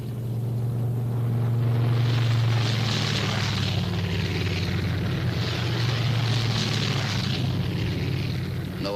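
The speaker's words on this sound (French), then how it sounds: "La 6-6 s'apprête à décoller." Military squadron aircraft taking off, a loud sustained propeller-engine roar with low droning hum and swelling, pulsing noise that stays strong throughout, no talk.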